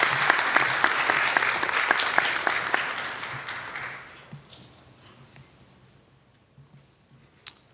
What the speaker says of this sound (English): let's give another round of applause to Nico